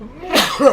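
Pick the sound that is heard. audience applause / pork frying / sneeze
sneeze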